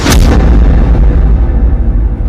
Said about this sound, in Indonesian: Tak berapa lama kemudian ada bombardir dari Belanda. Ya, meledak kapal kita.